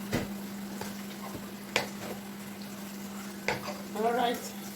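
Carrots are turned in a pan with a few soft scrapes and clicks of a utensil over a low steady cooking hum, faint and close, with no talk.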